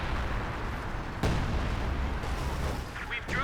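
Shells from a major artillery barrage in Company of Heroes land, giving loud rumbling blasts and booms over continuous battle noise. One sharp impact stands out near the start, with more crashes toward the end.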